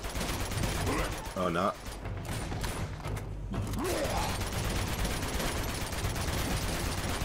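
Gunfire in the video game Uncharted 2: Among Thieves, a dense continuous rattle of shots with mechanical clatter, steady and loud throughout, with a brief spoken remark partway through.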